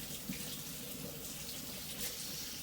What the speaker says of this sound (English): I can go ahead and get my water in there.